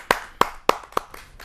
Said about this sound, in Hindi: उनका जोरदार तालियों से स्वागत करता हूं